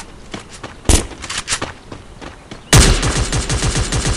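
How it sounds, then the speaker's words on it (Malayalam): Gunfire in the video game Free Fire: a few scattered single shots, then a loud burst of rapid automatic fire that rattles on in quick repeated bangs until the end, with no talk over it. "ഒന്ന് വെടി വെച്ചോക്കട്ടെ."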